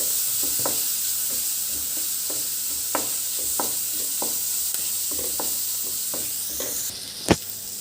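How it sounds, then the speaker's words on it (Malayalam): Sliced onions with potato for a brinjal-potato stir-fry are stirred in a pan, giving a steady sizzle marked by repeated spoon scrapes and clicks and one sharp knock near the end. "ഇതെല്ലാം കൂടെ ഒന്ന് ഇളക്കി."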